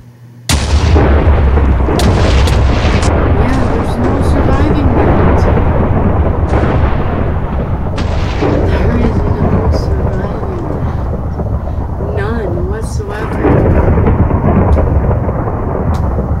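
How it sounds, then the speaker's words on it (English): Video game thunderstorm with heavy rain: loud, continuous rumbling thunder and rain wash fill the whole stretch, with sharp cracks and booms breaking through, while a voice talks briefly over it. "Thunderstorm."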